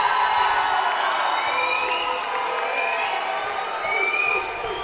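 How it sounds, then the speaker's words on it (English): Arena crowd at a Shamrock FC MMA fight, a sustained roar of cheers, whistles and boos, steady and loud throughout with some shouting voices mixed in. "Oh, so much energy in the crowd right now between the boos, the cheers."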